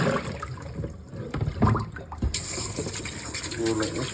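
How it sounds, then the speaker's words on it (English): Potatoes being rinsed under a running kitchen tap, a steady gush of water that grows louder and fuller partway through, with a voice talking over the start. "do a little extra little rinse."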